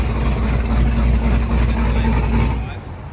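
A 1000-horsepower Cadillac CT5-V Blackwing with a manual gearbox runs with a deep, steady rumble for a few seconds before cutting off, under loud talk.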